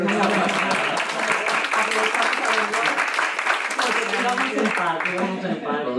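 Dense, continuous applause from a crowd fills the whole stretch, steady and loud, with some voices mixed into the clapping.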